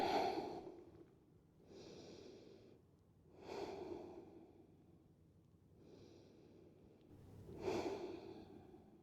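Slow, deep breathing during a gentle yoga pigeon pose hip stretch: five soft, airy breaths spaced about two seconds apart, quiet and close, with no other sound.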